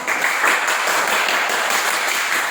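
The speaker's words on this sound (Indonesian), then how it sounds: "Tepuk tangan dulu untuk kita semua" A classroom of students applauding together, dense steady clapping that fills the room for a couple of seconds, with a few voices mixed in.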